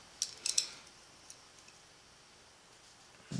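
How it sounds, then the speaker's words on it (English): A trigger shoe is fitted onto an Autococker paintball marker: a quick cluster of small, close metallic clicks and ticks, then quiet with a faint tick or two and a light knock at the end. "we can go ahead and drop the trigger shoe on while we're at it"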